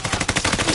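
Rapid automatic gunfire in the video game Warzone, a quick burst of closely spaced shots at moderate loudness with no talking.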